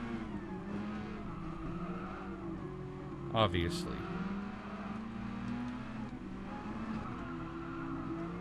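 Red Bull X Junior race cars in Gran Turismo Sport drone steadily at speed, a brief sharp tire squeal rising midway, while a person speaks over the racing.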